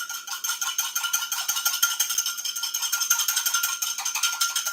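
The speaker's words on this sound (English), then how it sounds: "Now I'm going to whisk that together." Ingredients including grapeseed oil are whisked together for a veggie dish, a quick steady rhythmic scraping and rattling of the whisk against a bowl, close and continuous with no talking.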